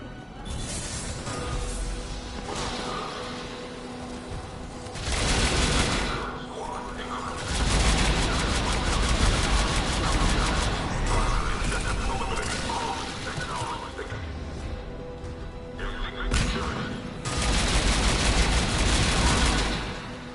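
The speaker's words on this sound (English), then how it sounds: "Taking enemy fire from position Caltech 4." Enemy gunfire in the Mass Effect 3 combat, with dense volleys and bursts of shots that surge and drop over the stretch, loud and sustained with short lulls between heavy barrages.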